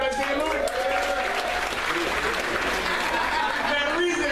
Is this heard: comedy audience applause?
yes